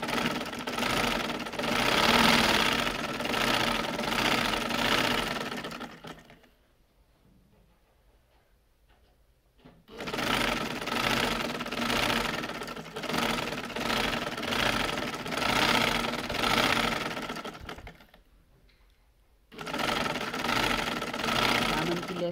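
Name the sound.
sewing machine stitching lace onto a kurti slit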